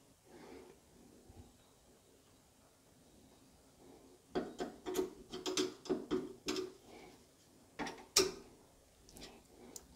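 Small plastic and metal clicks and scrapes come close and sharp as a locking pin is fitted onto a Moen 1222B faucet cartridge. The irregular taps cluster in the second half and sit against quiet.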